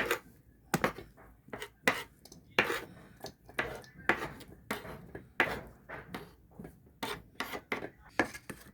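Chilies being finely chopped with a knife on a cutting board, a rapid uneven series of sharp knocks and thuds, close and clear, with a faint murmur beneath.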